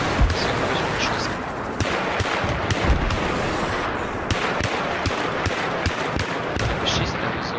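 Gunfire in the video game Battlefield 3 multiplayer on PS3: rapid sharp shots crack close and loud in irregular bursts over a constant battlefield din, with scattered distant reports.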